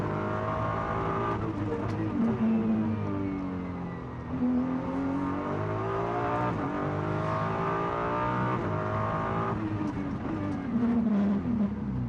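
A GT race car drops down through the gears into the first-gear Macau hairpin, then accelerates hard away, the engine note rising and falling as other cars sound nearby, with commentary running underneath.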